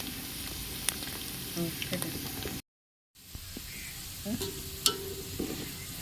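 Sugar fries in hot oil with onions for chicken dum biryani, a steady sizzle with occasional stirring clicks, interrupted by a brief silent gap before the frying resumes.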